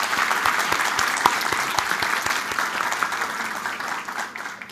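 A studio audience at a Peruvian talk show claps steadily, a dense round of applause close by that slowly tapers off near the end.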